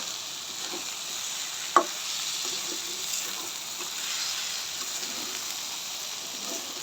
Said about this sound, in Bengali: মাংসের সাথে চালটা ভালো করে কষাই নেব